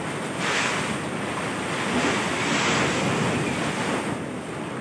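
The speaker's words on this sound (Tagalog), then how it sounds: "Sobra po yung whistle ng hangin ng bagyo." Strong, whistling wind from Super Typhoon Rolly roars continuously and loudly, gusting and swelling with a rushing, buffeting quality and no voices.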